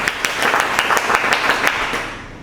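One section of a choir claps hands on the conductor's cue, a series of distinct, fairly close claps in a loose steady rhythm that trails off at the end.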